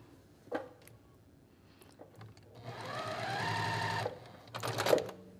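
Sewing machine stitching a quilt block seam for an Ohio Star quilt, running in a steady whirring burst near the middle and again briefly at the end, with light handling noises between runs.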